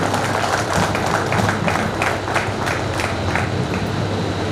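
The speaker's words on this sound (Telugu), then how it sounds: "ఒక్కసారి మనం చప్పట్లు కొట్టాలి." An audience at a school reunion claps their hands together, producing a loud, rhythmic patter of many hands that holds steady for several seconds, close by and with no talking.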